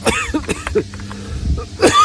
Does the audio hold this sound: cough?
yes